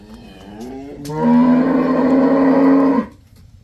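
A single loud, drawn-out moo from a dairy cow on a farm, close by, holding steady for about two seconds before stopping abruptly.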